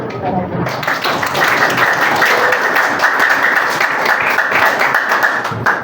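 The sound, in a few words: applause, hands clapping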